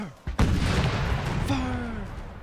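Musket and artillery volley in Napoleon: Total War, opening with a sudden loud crash of massed gunfire, then a long rumbling roar with a second sharp report midway.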